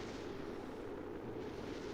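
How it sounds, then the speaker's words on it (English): Spacecraft parts blow apart in Kerbal Space Program, heard as a faint, continuous distant rumble of explosions with no clear separate blasts. "I didn't think there was that many parts to explode"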